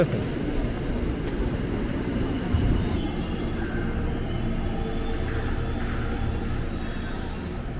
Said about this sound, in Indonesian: itu dia tuh ada KRL tujuan Bogor yang akhirnya masuk ke jalur 4